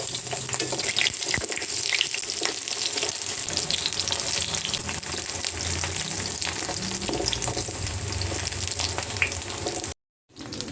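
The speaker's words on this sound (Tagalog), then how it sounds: "piprito muna tayo ng eggplant" Eggplant slices fry in hot oil in a home kitchen, a steady dense crackling sizzle that runs continuously near the pan, then cuts off briefly at the end.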